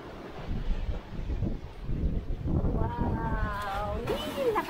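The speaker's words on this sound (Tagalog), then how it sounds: "Lakas ng hangin." Strong wind on Boracay Island buffets the microphone in a steady, loud rumble, with voices talking underneath and some higher tones near the end.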